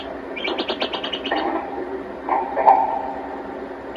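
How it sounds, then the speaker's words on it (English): A pet canary chirps in a quick trill of rapid notes, then a brief warbled call, slightly muffled and thin, played from an old GE cassette recorder. "that bird sound is her canary"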